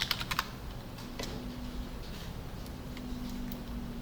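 Quiet typing on a computer keyboard: a quick burst of clicks at the start, then sparser, softer keystrokes scattered over a low steady background hum.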